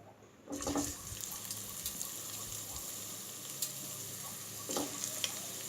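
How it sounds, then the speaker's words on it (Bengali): Potatoes are dropped into hot oil for a vegetarian jackfruit curry. After a brief silence, a soft, continuous frying hiss begins, with a few light clatters and splashes near the start and again toward the end. "তেল গরম হয়ে গেছে, এবার আমি আলুগুলোকে ভেজে নেব।"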